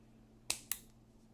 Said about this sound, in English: Let's snip this off here.